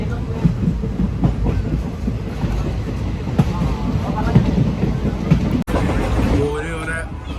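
A local passenger train runs along the track with a steady rumble and rhythmic clatter of wheels. The sound is close and constant, and a voice talks over it near the middle and at the end.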